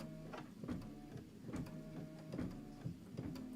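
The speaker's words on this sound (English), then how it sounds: "This is just a minute of stitching." Embroidery machine stitching a quilt block, a quiet steady mechanical hum with regular rhythmic ticking pulses and a faint tonal whine, heard alone up close.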